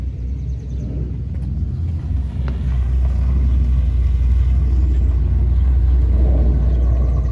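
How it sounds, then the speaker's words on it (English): A late model race car engine running on E85, now fitted with mufflers instead of straight pipes, gives a steady, loud, deep rumble that swells slightly after the first few seconds and holds alone without talk. "He just put mufflers on this thing so it's not straight piped anymore."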